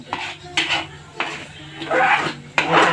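Sheera being mixed in a pot, then a metal lid set on top: several close clinks and clatters of metal utensil and pot, separated by short pauses.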